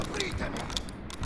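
Mechanical clicks and ratcheting of a gun being reloaded in a video game, with a quick run of close, crisp metallic clacks over a steady low game background.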